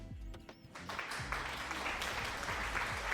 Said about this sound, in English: Are you applauding yourself?